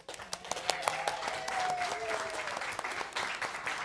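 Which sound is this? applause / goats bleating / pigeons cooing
applause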